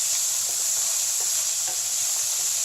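Turnips tossed with salt sizzle in a hot pan, a steady broadband hiss of frying with faint stirring scrapes underneath, close and continuous with no talking.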